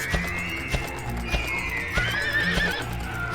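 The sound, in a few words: horse neighing and hooves, video game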